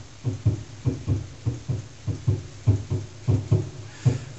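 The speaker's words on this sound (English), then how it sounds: "Your heart was racing." Quick, steady thumping pulses like a racing heartbeat, about four beats a second, muffled and low, continuing evenly throughout.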